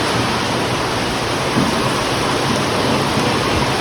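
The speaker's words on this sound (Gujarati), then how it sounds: "બહુ ભયંકર વરસાદ ચાલુ થયો હોય આવે છે" Heavy rain pours down on a farm in a steady, dense hiss that never lets up, loud and close, with no voices.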